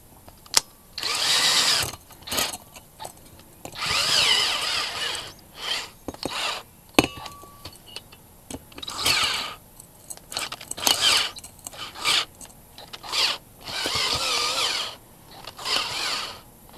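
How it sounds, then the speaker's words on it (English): A drill with a nearly dead battery bores into a metal propane canister with a roller bit, whining in short close bursts with brief pauses between them. "You got that drilled out a little bit."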